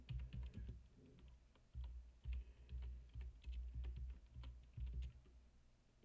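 Rapid bursts of close keyboard typing, with quick clustered keystrokes and short pauses between runs, steady and fairly quiet, with no voices.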